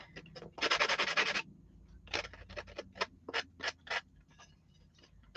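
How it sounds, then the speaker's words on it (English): Hand sanding up close: one long scrubbing stroke, then a run of short rhythmic rasping strokes with brief pauses between. "have to do some aggressive sanding on this too."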